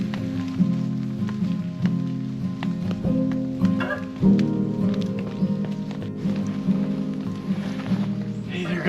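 Heavy rain drums on surfaces at a solo survival camp in a rainforest, a dense continuous patter with irregular louder drops and some knocks.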